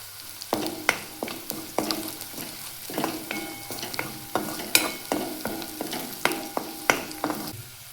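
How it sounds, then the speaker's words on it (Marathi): Green chillies and garlic sauté in a hot pan with turmeric added, giving a steady close sizzle broken by repeated sharp scrapes and clatters of a spoon stirring, with no talking. "आपलं मिरची आणि लसूण छान अशी परतून झाली आहे।"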